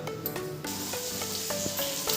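Bitter gourd sizzles in a pan of leftover frying oil with fish heads, a steady close crackle running throughout, with a few scraping stirs over the hiss.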